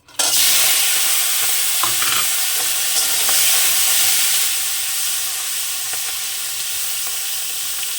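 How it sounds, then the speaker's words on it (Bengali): Fish seasoned with salt and turmeric frying in hot oil in a hot wok over low gas, a loud continuous sizzle with occasional stirring clicks that eases slightly toward the end. "মাছটাকে আমি সুন্দর করে ভেজে নেবো"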